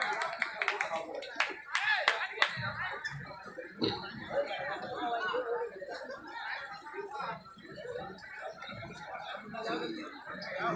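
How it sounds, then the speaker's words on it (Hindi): At a mushaira poetry gathering, an audience breaks into scattered clapping and chuckles while a guest is garlanded. Sharp claps cluster early, then give way to laughter and overlapping talk. "तालियां।"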